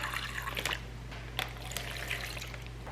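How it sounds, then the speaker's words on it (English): Water splashes and trickles into a bag in short bursts, with a few brief drips over a steady background hum. "1/2 cup of water in each bag."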